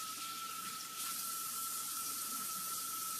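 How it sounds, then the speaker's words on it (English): Tap water runs steadily into a kitchen sink while a cutting board is rinsed, a continuous hissing wash of water with a faint constant whine, close and alone with no voices. "So I'm gonna wash my cutting board really quick and then we'll do some herbs."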